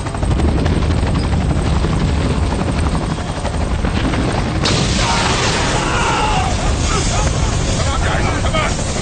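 A helicopter roars loud and close, a steady rotor throb over rushing wind and commotion, during a tense rescue scene in a 2017 action film.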